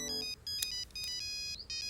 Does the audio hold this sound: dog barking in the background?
no